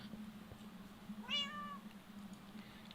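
A single clear cat meow rises and falls once, over a low steady hum, in a quiet room during a modded Minecraft game session.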